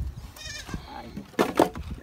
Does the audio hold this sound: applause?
no